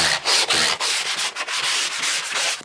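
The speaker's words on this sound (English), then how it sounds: "where I've got the corners, I'm just going to gently come in with a sanding block" A sanding block rubs across the corners of freshly plastered walls in short, rhythmic back-and-forth scrapes, close and gritty, with brief pauses between strokes and no voices.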